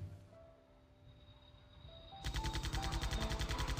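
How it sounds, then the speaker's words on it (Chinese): Machine gun and rocket fire from a US bomber strafing a road in archive war footage: quiet crackling at first, then a sudden dense burst of rapid automatic fire that keeps going, loud and harsh. "所以看到他们的机枪和火箭弹一直在打向我们的公路"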